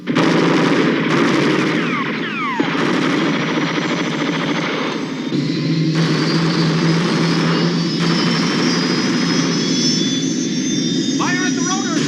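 Machine-gun fire aimed at a helicopter's rotors in a sci-fi drama, loud and continuous under a dense mix of aircraft engine roar and shouted dialogue.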